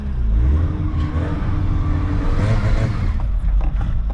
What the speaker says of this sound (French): Voilà, je patine quoi. Je patine sacrément.